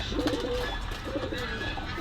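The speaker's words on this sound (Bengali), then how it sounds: "একটা চিনা কবুতর আছে" Chinese pigeons cooing inside a bird shop, two soft low coo phrases close by over a constant background hum, brief and fairly faint.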